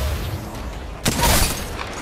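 A single gunshot burst in a multiplayer video game shooter, sharp and loud against a low hum of in-game ambience, with a broad crackling tail trailing off.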